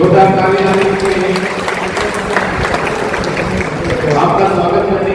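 An audience at a career guidance event in Sujangarh claps steadily to welcome a guest onto the stage, with a dense, continuous patter of hands and a voice speaking over it.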